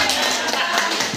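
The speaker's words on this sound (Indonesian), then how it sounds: "Tepuk tangan untuk ibu-ibu" Brief burst of clapping from a group of mothers at a teachers' training session, applauding together in a lively indoor room, loud and close.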